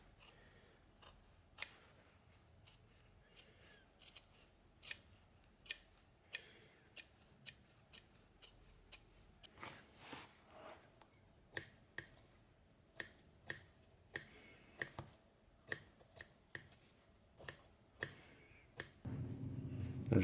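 Scissors cut leather for a guitar strap, with sharp, close snips repeating at an uneven pace over a quiet background and a brief rustle near the end.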